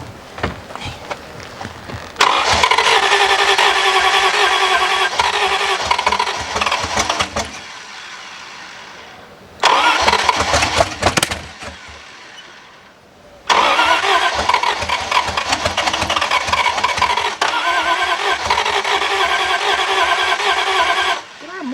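An old 1951 Chrysler Saratoga limousine engine, not started in over 30 years, cranks and catches, roaring loudly in bursts with a brief stall and restart, revving unevenly close by.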